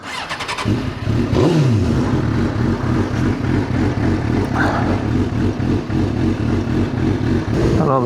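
A Suzuki K4 GSXR 750 sport motorcycle rides along, its engine humming steadily up close with a slight rise in revs, loud and continuous throughout.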